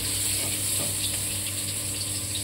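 Potato pieces fry in hot oil in a home kitchen, a steady close hiss with faint crackles running evenly throughout, alone with no voices.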